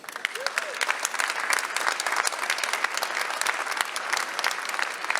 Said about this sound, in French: je pense qu'ils méritent tous les trois des vraiment très très forts applaudissements